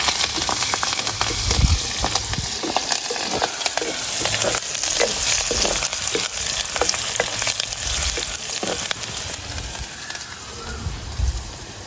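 Fish pieces frying in hot oil for a pumpkin curry make a loud, steady sizzle throughout, broken by frequent scraping and stirring clatter from a utensil.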